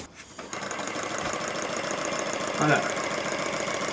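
An English fire pump engine runs on compressed air, giving a steady, fast mechanical chugging and clatter that carries on throughout, with a brief spoken word near the start.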